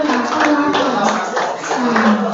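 A congregation at a Sunday worship service claps in welcome, a close, continuous patter of many hands, with a voice speaking over it.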